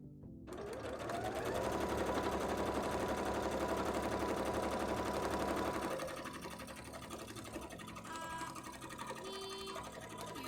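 A sewing machine stitches small fabric sausage pieces for a Mononoke bra, running loud and steady for about six seconds, then dropping to a lighter, uneven whir with a few brief pauses.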